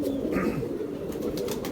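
A Shikra pigeon coos steadily in a low, continuous murmur, close and moderately loud, with faint higher chirps from other birds now and then.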